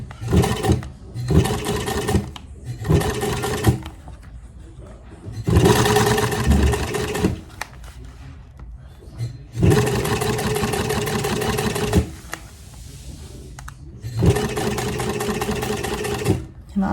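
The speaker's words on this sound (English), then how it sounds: "this is my cool antique sewing machine that has a leather sewing wheel" An antique sewing machine with a leather drive wheel stitches thin leather binding along an edge in several loud bursts of rapid mechanical whirring, separated by short quiet pauses.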